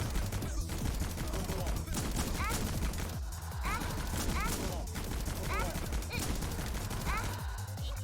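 A chain gun fires in a magical girl video game, with continuous rapid gunfire bursts and crashing impacts that stay loud and dense throughout, mixed with other game effects.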